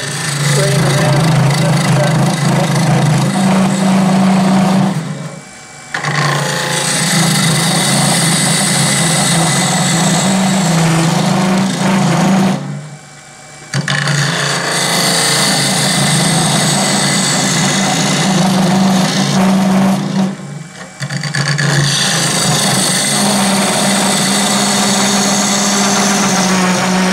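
Wood lathe turning a closed form from very dry, rock-hard wood, with a tool cutting on its bevel; a loud, steady, close whir with harsh cutting noise, dropping out briefly three times before resuming.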